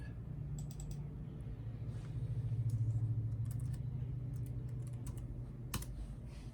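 Keys clatter in scattered, irregular clicks as someone types on a computer keyboard while touring an old PowerPC Mac OS system, the taps sitting faintly over a steady low machine hum.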